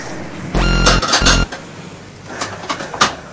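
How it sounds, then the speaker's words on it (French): Dishes being washed in a cramped boat galley: loud clanks and rattles of pots and metal pans knocking together up close, followed by lighter scattered clinks of cutlery and crockery. "il y a le capitaine qui est en train de faire la vaisselle"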